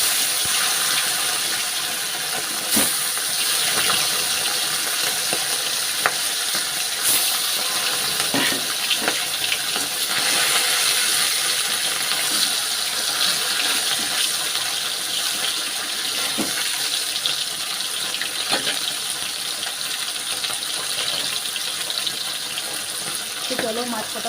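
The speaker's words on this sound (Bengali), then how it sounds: "কড়াই গরম হয়ে গেছে, এবার এই যে নুন হলুদ মেখে রেখে দিয়েছিলাম, এবং মাছ কটাকে একটা একটা করে ছাড়বো" Fish rubbed with salt and turmeric fries in a hot wok with a loud, steady, continuous sizzle and scattered pops over a long stretch, while someone talks at times.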